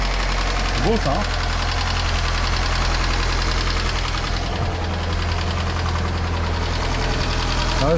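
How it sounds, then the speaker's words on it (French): Restored Lancia engine idling close up, a steady loud hum with a light rhythmic clacking from a tappet shim in need of adjustment; someone speaks briefly over it. "Une pastille qui claque un peu."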